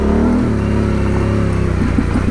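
A Yamaha Tenere 700 motorcycle accelerates on rough, rocky, washed-out terrain, its engine loud and close with a steady throbbing note that keeps climbing throughout.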